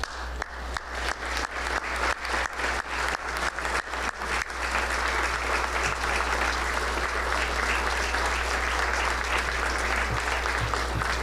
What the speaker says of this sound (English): so we can applaud all of you who were involved in Civic Day.